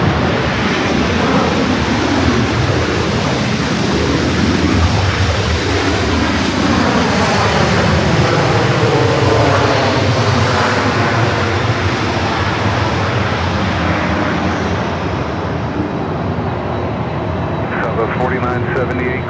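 An airliner on short final to runway 25 left at LAX, its engine roar loud and continuous throughout, with a slowly sweeping pitch as it passes close by.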